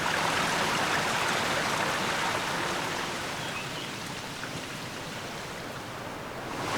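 Steady rushing water of a valley stream beside a levada near Porto da Cruz, Madeira, with a broad, hissing wash that eases a little partway through, continuous and fairly close, no voices.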